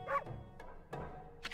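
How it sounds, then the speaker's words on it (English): A dog bark in the video game Okami, a short game-audio bark at the start followed by a couple of softer yips and a bright chime near the end, fairly quiet overall with no talking. "But I'd know that bark anywhere."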